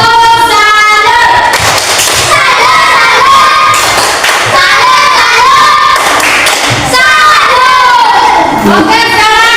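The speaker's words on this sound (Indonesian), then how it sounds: "Tepuk tangan" A school class shouts and cheers loudly at close range, children's voices rising in excited bursts, with some thumps mixed in.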